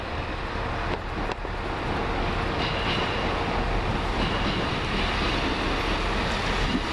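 A Chiltern Railways train from High Wycombe pulls into the London Marylebone terminus, a steady loud rumble of rolling wheels and carriages with faint squeals, continuous throughout with no talk.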